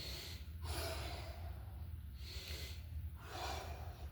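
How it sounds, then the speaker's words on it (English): Deep breaths drawn in and let out during a twisting yoga-style stretch, several slow airy inhales and exhales in a steady rhythm, close and fairly loud over a low background hum. "So we're going to take a deep breath."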